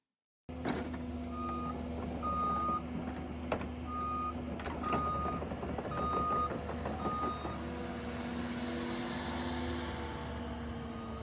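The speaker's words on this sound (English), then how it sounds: "The shovel is ready to take its first scoop of dirt on this project." An excavator shovel on an observatory construction site works through a steady machinery drone while a reversing alarm beeps repeatedly in a regular rhythm, fairly close, with sharp clanks punctuating it partway through; nobody speaks.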